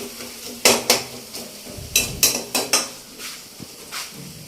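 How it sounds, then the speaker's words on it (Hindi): Onions frying in a pan for a banana curry in a home kitchen, with a spoon clanking and scraping against the pan in quick irregular stirs over a soft sizzle. "ये केला और टमाटर हरी मिर्च काट के रख रहा है और उधर प्याज भून रहे हैं।"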